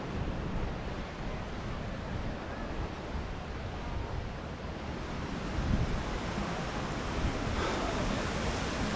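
Ocean surf breaks on the beach at Cala Ratjada, Mallorca, a steady broad wash of waves with a little wind rumble against the microphone and a slightly stronger surge near the end.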